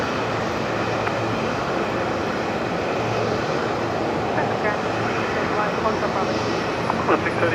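Aircraft engines hum steadily at a Brisbane Airport gate as a plane parks on the nearest bay, a broad continuous roar at moderate distance with faint talk mixed in.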